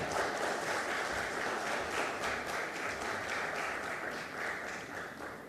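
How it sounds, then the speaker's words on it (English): A conference audience claps steadily as a speaker is called to the stage, a dense, even applause that holds for the whole span at a moderate distance. "A round of applause."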